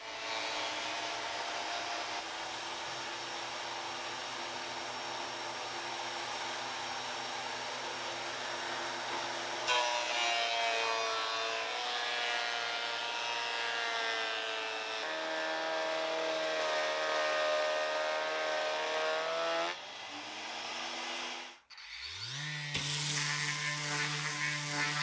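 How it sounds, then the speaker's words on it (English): A thickness planer taking boards down to one inch whines steadily and loudly with shifting pitch as stock feeds through, then briefly cuts out before starting up again. "I'm just going to keep running these through my planer until it's done"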